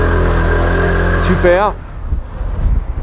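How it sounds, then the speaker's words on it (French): A Piaggio MP3 three-wheeled tilting scooter runs while being ridden, its engine droning loud and close under wind noise, then dropping away as a rider briefly speaks. "On l'entend toujours pas mal, hein, le moteur."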